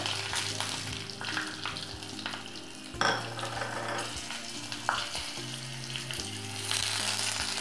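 Green chilies spit and crackle in hot mustard-seed oil on a lowered gas flame, a steady close sizzle with occasional sharp pops and utensil clinks, no talk.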